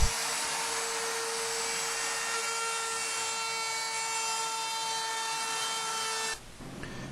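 Router with a round flush trim bit cutting wood on a custom coffee bar cabinet, a loud steady high whine held for about six seconds, then the cut ends and the motor winds down.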